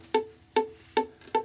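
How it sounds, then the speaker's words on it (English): Dead, muted notes plucked on a ukulele: four short dull plucks at a steady pace, each dying away quickly, close and fairly quiet. "if I'm getting a dead note like this, just have to push a little harder"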